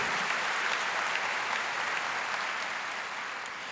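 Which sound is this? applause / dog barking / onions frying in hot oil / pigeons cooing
applause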